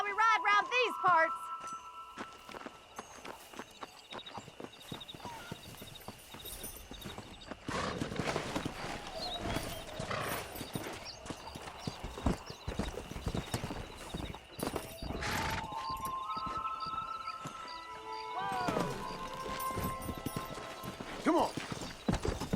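Horse hooves clip-clop steadily as a rider gallops in the Western video game Red Dead Redemption, with occasional whinnies, brief voices and other game sounds mixed over the continuous hoofbeats.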